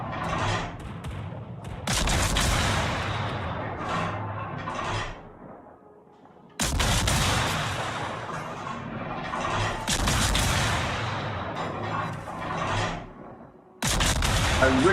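Heavy naval guns fire in a World of Warships battle, with repeated loud booming salvos and rumbling, mechanical clatter between shots, broken by a brief quiet gap.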